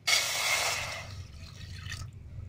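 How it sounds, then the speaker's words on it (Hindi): A glass of water is poured into a hot kadhai with a splashing rush for about two seconds, tapering off, then it stops. "1 गिलास पानी डालेंगे"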